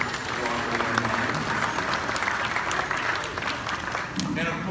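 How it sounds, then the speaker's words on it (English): Audience applause at a junior honor society induction ceremony, a steady, dense clapping that sustains for several seconds, with speech faintly mixed in near the end. "Round of applause for some Walker alumni."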